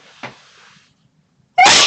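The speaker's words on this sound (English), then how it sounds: "I'm just going to sneeze." A single loud, abrupt sneeze bursts out near the end, close to the microphone, following a faint intake of breath and near silence.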